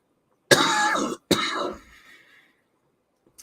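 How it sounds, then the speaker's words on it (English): Two harsh, close coughs in quick succession, the second trailing off into a faint rasp, then quiet. "before I cough up a lung"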